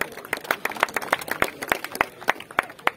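Scattered hands clap unevenly to welcome a guest at a village cricket tournament final; sharp, close individual claps in an irregular burst rather than a full roaring crowd.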